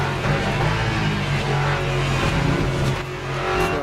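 Raspy, grumbly race car engine from the sim racing game Le Mans Ultimate, a loud continuous drone with rising and falling revs, heard alone without talk.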